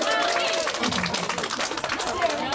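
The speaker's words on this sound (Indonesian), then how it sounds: "Tepuk tangan." An audience at a PKK neighbourhood kebaya fashion show claps for the third-place winner, with steady applause mixed with crowd noise and voices talking underneath.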